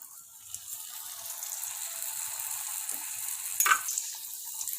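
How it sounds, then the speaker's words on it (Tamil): Wheat flour dough frying in hot oil makes a soft, steady hiss of bubbling sizzle, close but fairly quiet, with a brief clinking stir near the end and no speech. "எண்ணெய் வந்து சூடாயிருச்சு இப்போ நம்ம தட்டி வச்சிருக்க மாவை வந்து போட்டுக்கலாம்"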